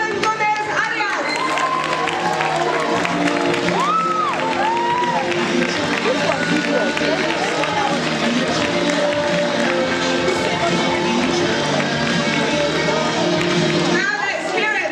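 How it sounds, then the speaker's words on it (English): Audience at a London youth public-speaking challenge event applauding continuously, a steady dense wash of clapping and crowd noise with music tones and voices mixed in throughout. "keep that applause rolling"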